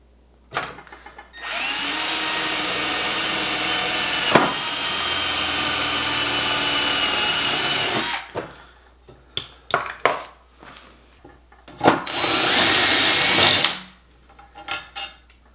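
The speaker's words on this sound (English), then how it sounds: "we're gonna take it out, we're gonna drill holes" A power drill bores holes during an E Stopp emergency brake kit install, with a long steady whine, then shorter bursts and a second drilling run, close and loud, with no talk.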